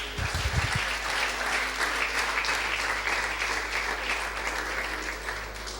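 Sustained applause from a church congregation during a sermon fills the whole stretch, steady and fairly loud with no talking.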